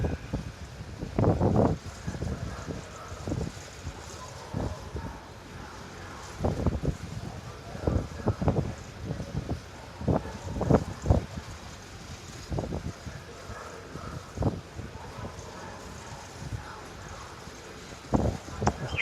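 Gusty wind buffeting a microphone outdoors at Boca Chica, producing repeated low rumbling thumps and bursts of varying strength over a steady background hiss, with no talking.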